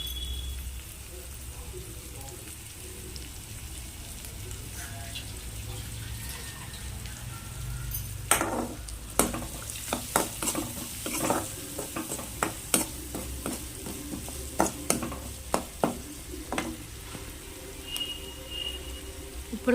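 Bitter gourd and tomato curry fries in a pan, a steady low sizzle with sharp scraping stirs and clicks of a spoon against the pan coming in bursts over the second half.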